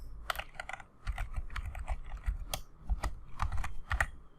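Fingers type quickly on a computer keyboard, close up, a dense patter of clicking keystrokes in uneven bursts and with no voices.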